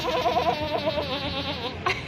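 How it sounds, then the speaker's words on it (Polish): Goats at a family picnic by a marina bleat in a wavering, quavering cry that rises and falls for over a second, close and clear, followed by a brief sharper call near the end. "Ale fajne kozy. A zobacz kozy."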